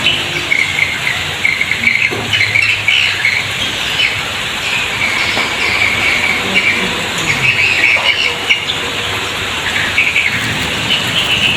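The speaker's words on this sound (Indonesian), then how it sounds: "suara burung walet sangat berisik ya" A dense chorus of high, shrill chirps from many swiftlets fills the air continuously, loud and close, over a steady background hiss.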